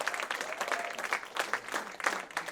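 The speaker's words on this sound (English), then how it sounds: "you hear how lackluster that applause is?" Sparse, half-hearted applause from an audience at an awards show, a thin patter of scattered claps that never builds, steady and moderately close across the whole stretch.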